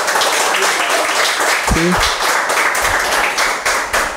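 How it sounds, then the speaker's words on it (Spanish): Applause from an audience at a talk, many hands clapping steadily and fairly loud, with a brief spoken word over it. "Otro aplauso, por favor, para Zulay."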